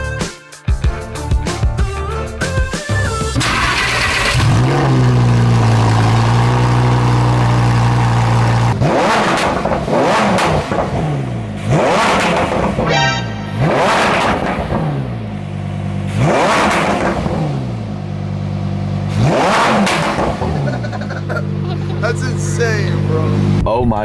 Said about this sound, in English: How can a car even get that loud?